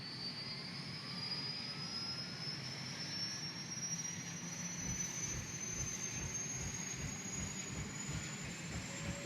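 A UH-1 helicopter's turbine starts up in a flight simulator game as the rotor begins turning. A steady, loud engine roar carries a thin high whine that climbs slowly, with faint rhythmic low thumping building underneath and no voices.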